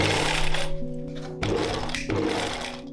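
A sewing machine stitches together the many layers of a full dress skirt in three close bursts of rapid mechanical whirring with short pauses between, heard alone.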